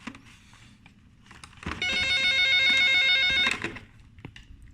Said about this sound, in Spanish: Permítanme tantito el teléfono, déjenme lo desconecto.